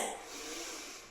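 Someone draws in a long, airy breath during a bodyweight workout, close to the mic, soft and steady for about a second.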